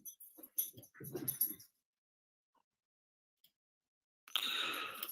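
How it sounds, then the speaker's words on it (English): A distressed dog whimpers and whines in a few short, uneven cries, then lets out a louder, harsher burst near the end, with a quiet gap in between. "This dog is going crazy."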